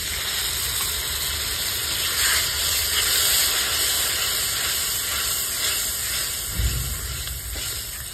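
Water poured into hot, oil-separated tomato gravy in a pan hisses and steams in a steady, close broadband sizzle that holds throughout, with a brief bubbling surge near the end.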